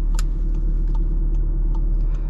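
Low, steady engine hum inside a car as it starts rolling slowly backward during reverse parking, with a few faint clicks and no voices.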